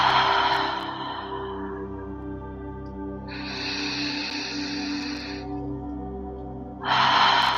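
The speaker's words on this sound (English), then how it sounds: "Inhaling through the nose, exhaling through the mouth, just letting everything go. Try to exhale slow." Slow ujjayi breaths during a pranayama breathing exercise: a long airy, hissing exhale tapering off, then a steady audible inhale through the nose, and another breath beginning, close and clear with no talking.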